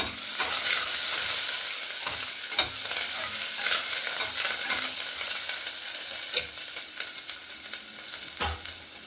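Onions sizzle in hot oil with mustard seeds and curry leaves as a spoon stirs them, giving a steady hiss broken by scraping stirs and small pops, close up and without any voice.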